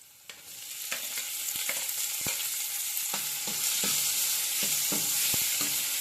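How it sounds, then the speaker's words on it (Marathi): Onion sautés over medium heat in a pan, then tomato goes in; a loud, steady sizzle builds as a spatula scrapes and taps the pan in a loose rhythm of close clicks, with no speech. "ट्रान्सपरंट होईपर्यंत परतायचा आहे मध्यम आचेवरती हा कांदा"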